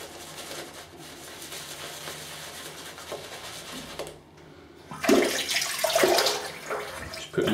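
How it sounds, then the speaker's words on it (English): Water splashes and runs loudly near the end after a dim stretch of low background noise, as more water is added to a shaving brush while working up a lather. "Just put more water in the brush."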